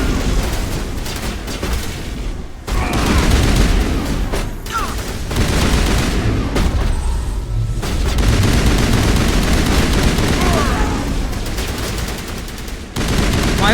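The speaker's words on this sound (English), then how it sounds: "Why are we shooting at the roof?" Sustained heavy gunfire in Mass Effect Legendary, dense automatic bursts with booming impacts that pause briefly before resuming, loud and close throughout.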